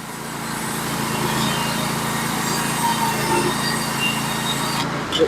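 A Norwood HD36V2 band sawmill cuts fence boards with a steady, high-pitched engine drone and blade whine, moderately close and continuous, with no voices over it.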